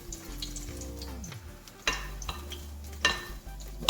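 Saltfish fritter batter being stirred with added water in a bowl, soft wet sloshing and scraping strokes with a couple of sharper knocks, close and moderately loud, no voices.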